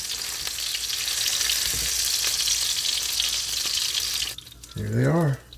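Tuna steaks searing in a hot pan give a steady, loud sizzle that fills most of the clip. It cuts off near the end, followed by a brief burst of nearby noise.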